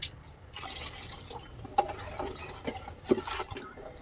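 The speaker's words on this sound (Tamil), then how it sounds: "அந்த கரைசலை இதில் ஊற்றணும்" Tamarind solution poured into a pot of thoothuvalai rasam, a soft trickling splash with scattered drips and small clinks close by.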